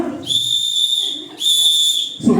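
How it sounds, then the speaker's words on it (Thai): A traffic police officer's whistle sounds two loud, long, steady blasts separated by a short gap, shrill and close, with a little background noise at the end. "พร้อมเป่านกหวีดยาวหนึ่งครั้ง"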